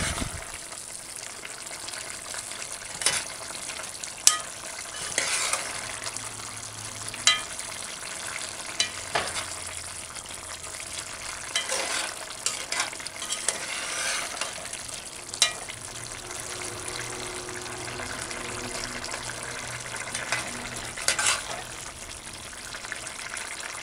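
Conch and butter bean curry stew is stirred gently in a pot over the heat, giving a steady low sizzle with soft, irregular scrapes and sloshes. It sounds close and continuous, with no talking.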